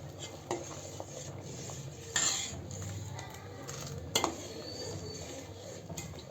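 A spoon scrapes and stirs sweet saffron rice (zarda) in a pot over low heat, soft repeated scraping with a couple of sharper metallic knocks against the pot.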